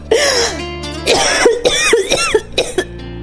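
A woman coughs hard in a rapid series of loud, close bursts, with brief gaps and a throat-clearing quality between fits.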